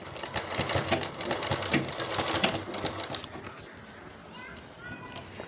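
A sewing machine runs in quick rattling bursts while stitching a dori neck design onto a kameez, the stitching stopping partway through as a voice speaks over it.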